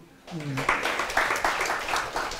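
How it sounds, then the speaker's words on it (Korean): A church congregation at a Sunday evening service applauds after a voice speaks, a series of rhythmic claps carrying on steadily at moderate loudness. "우리 박수 한번 칩시다"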